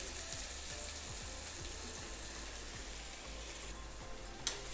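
Green chillies and oil fry in a pan for a spicy drumstick-leaf dish, giving a soft, steady hiss with faint crackles throughout and one brief clink near the end.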